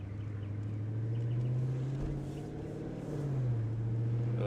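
A rebuilt 2017 Dodge Challenger Scat Pack, running without fenders or front bumper and badly out of alignment, drives with a steady deep engine drone heard from inside, its pitch dipping briefly and then rising as the throttle changes.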